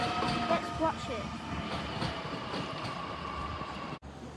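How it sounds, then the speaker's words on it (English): Sydney B7 train departing for Parramatta, a steady rumbling rail roar with faint wheel clicks, heard at moderate distance and ending abruptly. "B7 departing for Parramatta service."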